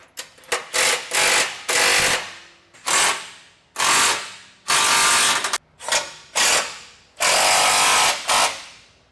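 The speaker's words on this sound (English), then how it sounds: "Our next move is gonna be to tighten down those 3 big cross bolts." A ratchet wrench tightens large cross bolts on rock sliders fitted to a third-generation Toyota Tundra, loud close bursts of rapid clicking in repeated strokes separated by short pauses.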